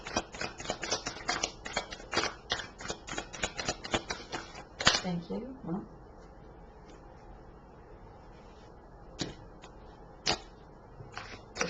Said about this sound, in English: just going to finish the shuffle.